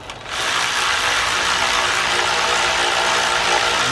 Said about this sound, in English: Now if we go ahead and tighten down the bolts